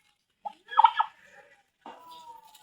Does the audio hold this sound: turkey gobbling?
yes